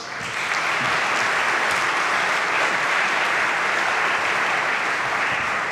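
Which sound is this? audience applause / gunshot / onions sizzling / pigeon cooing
audience applause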